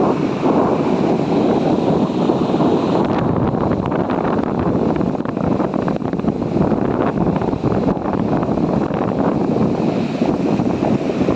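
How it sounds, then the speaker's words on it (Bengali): Sea waves breaking on the beach at Mandarmani make a steady, loud surf roar, heavily mixed with wind buffeting the microphone throughout. "সমুদ্রের এই সাউন্ডটা শুনতে এত ভালো লাগে না।"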